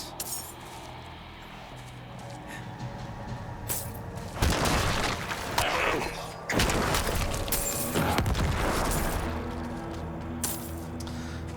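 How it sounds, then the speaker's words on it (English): Explosions from a Necromancer video game booming in heavy bursts with crackling, shattering debris, rising and falling over a steady backdrop of game music and effects. "the sound of the explosions won't drive people away from the stream"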